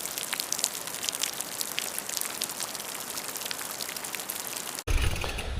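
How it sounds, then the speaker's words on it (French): Rainwater running and trickling across a mountain bike trail after a week of rain, a steady dense wash of watery patter that cuts out abruptly near the end. "là il y a de l'eau qui traverse un peu partout, là, ça ruisselle"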